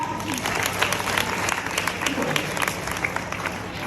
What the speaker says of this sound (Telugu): give big clap